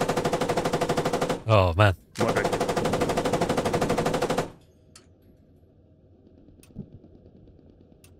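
Automatic gunfire in the military shooter Squad, a dense sustained burst of rapid shots broken by a short pause, then stopping into quiet background with a brief spoken exclamation.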